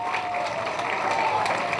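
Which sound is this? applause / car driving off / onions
applause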